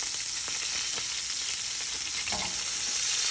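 Steak for Steak Diane frying in a hot pan, a steady bright sizzle with crackling spits close by and no talking.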